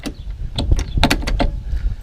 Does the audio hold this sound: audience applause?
no